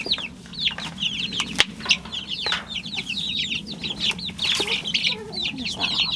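Backyard chickens cluck and chatter in a busy, overlapping flock, short repeated calls coming quickly and close, with scratchy rustling underneath.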